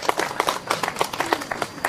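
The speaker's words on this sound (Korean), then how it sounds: "박수 좀 부탁드립니다" An audience claps at a literary award ceremony, producing a brief burst of uneven, fairly close handclaps with a few louder individual claps standing out.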